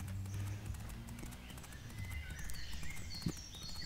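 In a horse-riding video game, a horse's hooves clip-clop at a steady walking rhythm beside a brief snort or whinny, with birds chirping in the background and no speech.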